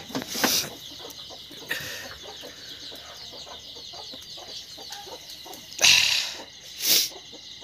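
Free-range desi chickens in a village poultry shed cluck in scattered bursts, with sharper, louder calls flaring up near the start and again toward the end over a steady background hum.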